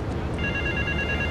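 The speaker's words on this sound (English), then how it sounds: "that a ringing phone?" A telephone rings in the video game Grand Theft Auto III, a steady electronic trill that starts shortly into the clip and repeats in even pulses over a dull background rumble.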